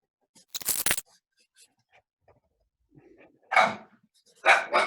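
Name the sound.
dog barking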